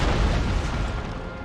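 Artillery fire booms in the Empire: Total War video game, a loud, deep blast that rumbles and fades slowly over about a second and a half.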